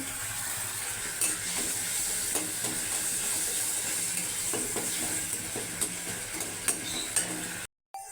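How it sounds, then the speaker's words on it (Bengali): Water hits a spice paste frying in a pan, setting off a steady loud sizzle and hiss with occasional stirring scrapes, before the sound cuts off abruptly near the end. "একটু জল দেবো, মশলা যাতে পুড়ে না যায়।"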